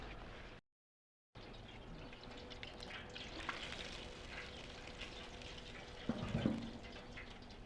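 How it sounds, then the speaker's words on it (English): Baby back ribs deep frying in oil in an RV Cajun fryer, a steady dense bubbling crackle that runs throughout, with a brief dropout early on and a louder burst of bubbling near the end. "We're just going to let them fry until they get golden brown because the meat is pretty much done."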